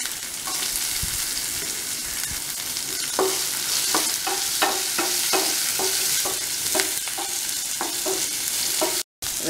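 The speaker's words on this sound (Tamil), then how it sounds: "ஒரு சின்ன துண்டு இஞ்சி இப்போ ஒரு வெங்காயம் போடுறேன்" Ginger and onion crackle loudly in a hot pan, a dense close hiss with a run of rhythmic stirring knocks in the middle and a brief dropout near the end, no speech.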